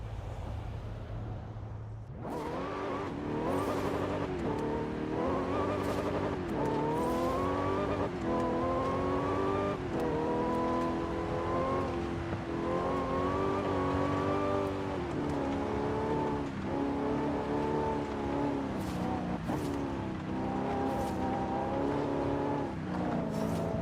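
A supercharged V8 race car roars through Forza Horizon 5, the engine climbing and dropping through repeated gear shifts, with occasional tyre squeals over a continuous loud drone.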